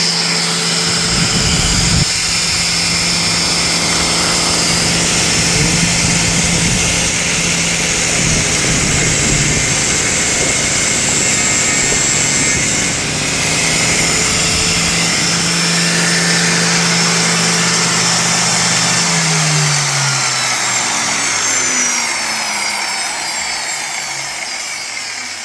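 An angle grinder runs steadily for about 25 seconds with a loud, sustained high-pitched whine and grinding noise, shifting pitch slightly and winding down near the end.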